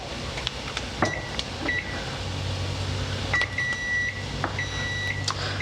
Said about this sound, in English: it's beeping because it's already telling me that it's at temperature